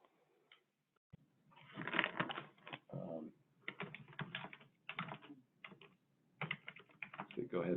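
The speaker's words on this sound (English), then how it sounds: "I'll type in that answer as well." Clicky bursts of computer keyboard typing come in several uneven runs separated by brief pauses, close and moderately loud with no talking.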